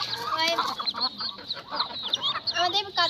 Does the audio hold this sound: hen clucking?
yes